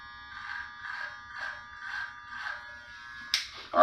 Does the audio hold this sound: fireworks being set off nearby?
no